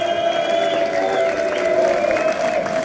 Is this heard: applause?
yes